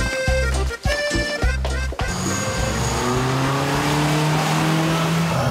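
A car passes with a revving engine and tire squeal, loud and close, its pitch sliding down steadily as it goes by after a choppy, stuttering start.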